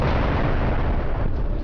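A large bomb explodes during an air strike of satellite-guided 2,000-pound bunker busters, a loud, dense booming roar that fills the whole moment and rumbles on without a break.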